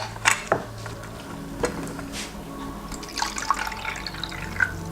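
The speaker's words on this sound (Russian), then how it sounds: "Итак, сейчас зальем воду." Water poured into a small toy doll washing machine, a light trickling and dripping with scattered splashes and drops, fairly quiet and close.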